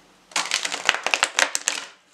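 A mini tarot deck with black-edged cards being shuffled close up, a quick burst of riffling card clicks and flutters lasting under two seconds, with no talking.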